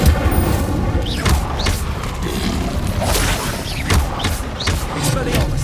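Repeated incendio fire spells burst in Hogwarts Legacy combat, booming whooshes and thuds recurring every second or so over constant battle noise, with a voice speaking amid the casting.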